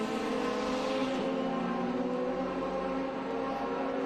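Oreca prototype race car running on track at a Portland International Raceway prototype race, a loud sustained engine roar with steady harmonic tones, holding fairly constant throughout.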